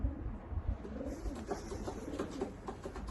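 Austrian homing pigeons of a breeding line kept since 1967 coo in a loft, a low soft burbling repeated through the stretch over steady background noise, with no one speaking.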